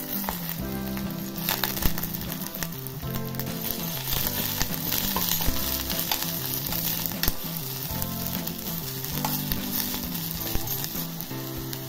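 Soaked dried vegetables frying in a pan with roasted garlic and chillies, a dense continuous sizzle with crackles and occasional stirring scrapes throughout, fairly close and even, no voices.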